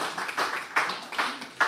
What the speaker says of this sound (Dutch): Applaus voor Joris, Mirjam en Jacqueline.